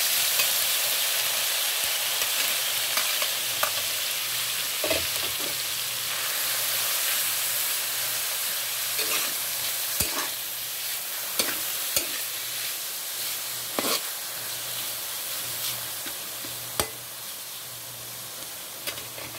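Ground pork giniling sizzles in a pan with fried garlic while a utensil stirs it, making a continuous frying hiss broken by repeated scraping clacks of the spoon against the pan.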